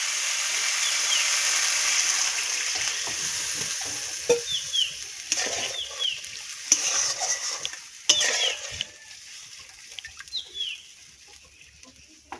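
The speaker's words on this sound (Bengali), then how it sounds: "এবার আমি জল দিয়ে দেবো।" Water goes into a pan of masala sautéed with garlic, coriander leaves, tomato, slit green chillies and bay leaf for a low-oil fish curry, giving a steady loud sizzle with scattered stirring scrapes and bursts, with rooster-like calls faintly in the background.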